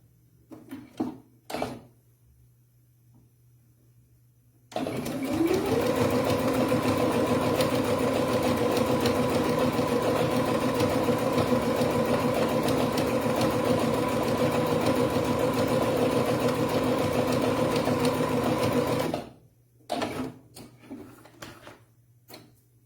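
Sewing machine topstitching along the edge of a fabric seam with bias binding, running as one steady, loud mechanical whir for about fourteen seconds, bracketed by faint handling noises before and after.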